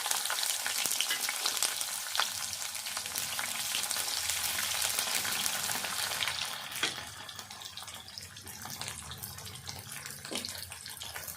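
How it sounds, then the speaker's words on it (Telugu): Onions are stirred into a hot tempering of oil with dried red chillies for an ivy gourd and dried fish curry, giving a steady close sizzle with scraping stirs that eases slightly partway through. "తాలింపు వేగినాక ఉల్లిపాయలు వేసుకోవాలి."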